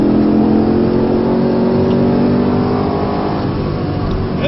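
A Camaro or Corvette accelerates hard down the back straight of the Spring Mountain Motorsport Ranch race track, its engine a loud, steady, close-up roar that holds strong throughout with no talking.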